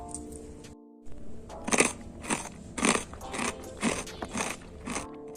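Close, loud crunching of crispy tapioca sticks being bitten and chewed, with a steady rhythm of sharp crackly crunches.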